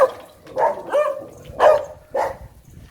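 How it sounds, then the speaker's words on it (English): Stray dogs bark in a residential area near Grand Baie, with four or five loud, close barks spaced irregularly, some doubled, and nobody talking. "those dogs are used to barking a lot as other dogs come past"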